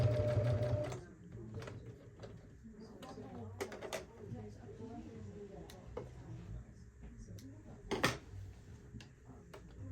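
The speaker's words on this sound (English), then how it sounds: "And I'm stitching just below that" A sewing machine stitching a fabric tote bag runs in short, uneven bursts with clicking mechanical ticks, starting with a steady whirring run and then stopping and restarting; a voice talks quietly underneath.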